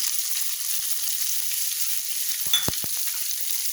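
Green chillies, onion and curry leaves sizzle together in hot oil for a curd rice tempering, a constant frying hiss with a few sharp spatula knocks against the pan near the end.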